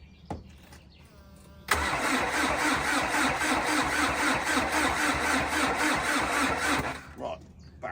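The engine of a Renault Kangoo 4x4 van cranks but won't start, its starter churning in a steady rhythmic chug for about five seconds, with voices heard before and after.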